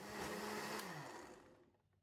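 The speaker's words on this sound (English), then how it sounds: "Add all the water into the blender as well. And blend for 20 seconds" A blender whirs through pandan leaves and water, running loud and steady up close, then winding down and stopping near the end.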